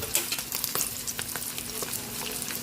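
Hot oil sizzling and crackling steadily around fried dalagang bukid (redfin fusilier) fish in a home kitchen, a close, dense frying hiss with scattered pops throughout.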